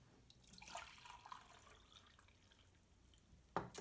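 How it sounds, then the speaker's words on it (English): Warm tea or herbal remedy pours into a mug, a soft steady liquid trickle with faint splashing, ending in a brief brighter splash, with no talking. "once the tea or the remedy is warm enough, we can go ahead and pour it into our mug."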